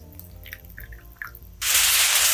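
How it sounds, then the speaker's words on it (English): Liquid is poured over braised cabbage wedges in a pan. A few soft drips come first, then a loud, steady, splashing pour sets in close by and runs to the end. "And now we're gonna pour the liquid just right on top of the cabbage wedges."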